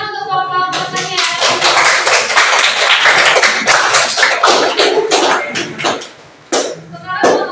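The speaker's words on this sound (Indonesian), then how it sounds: "Tepuk tangan untuk kelompok pertanian." Classroom clapping for a student agriculture group: a voice speaks briefly, then a burst of close, crisp hand claps from a small group runs several seconds before a short gap and a voice again.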